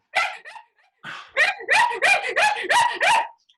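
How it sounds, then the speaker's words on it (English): A dog barks from downstairs in a house, a rapid string of sharp yips and barks with a short pause after the first few, fairly loud and close, with no talk over it. "just down these stairs, you can hear the dog, obviously."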